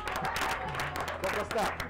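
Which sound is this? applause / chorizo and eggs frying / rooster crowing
applause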